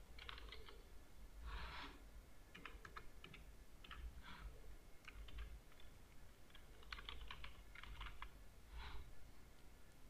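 Keys clatter on a computer keyboard in quick irregular bursts separated by short pauses, close and fairly soft against a faint steady background hiss.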